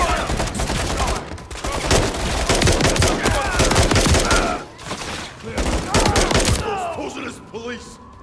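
Dense, rapid automatic gunfire and overlapping shots from a Call of Duty: Modern Warfare III firefight, loud and sustained with brief dips, mixed with shouted voices and chaotic battle noise.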